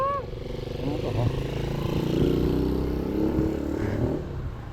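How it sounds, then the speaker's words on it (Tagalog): A motorcycle engine drones and rises as it passes close by, loud and sustained for several seconds before easing off, with voices briefly audible over it. "Hindi mo nakita yung motor na yun?"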